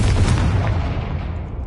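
A Confringo fire spell explodes in Hogwarts Legacy on PlayStation 5, a loud, dense boom that fills the whole moment and slowly tails off into a rumbling decay, with no voices.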